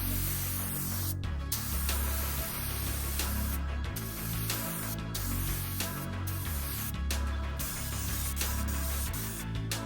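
Spray gun applying straight black paint to a Nissan 350Z body, a continuous loud hiss broken by several short pauses between passes, with no talking.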